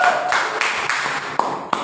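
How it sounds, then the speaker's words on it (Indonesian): Applause at a Sunday school teachers' training session: a brief burst of clapping from a group, with a few sharper individual claps standing out near the end, fairly close and moderately loud. "Kita berikan tepuk tangan dulu."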